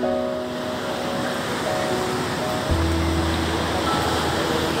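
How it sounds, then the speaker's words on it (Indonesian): Steady broadband wash of surf rolling in at Indrayanti Beach, Gunungkidul, Yogyakarta, continuous and fairly loud, with a faint low hum and tones sitting underneath. "Melihat ombak berkejar-kejaran."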